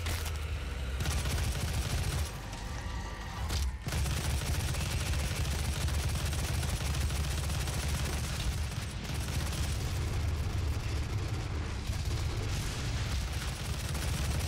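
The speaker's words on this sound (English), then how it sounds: "We'll try using the assault rifle for a little bit." Dense, continuous assault rifle fire in the video game DOOM 2016, a loud sustained barrage of rapid shots mixed with explosive booms and game effects, with brief dips but almost no pause across the span.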